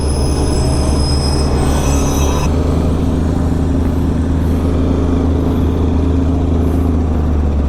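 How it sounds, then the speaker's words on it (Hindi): Darjeeling toy train rolling past a level crossing, wheels squealing steadily on the rails with a continuous low rumble, close and loud throughout with a brief high screech early on. "ये रहा toy train and there is the crossing"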